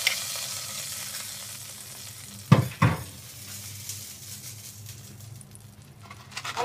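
Black pepper and cumin sizzling in a hot pan while making pulagam, a steady fry hiss with a couple of sharp spoon-and-pan clatters in the middle, close and moderately loud, no talking.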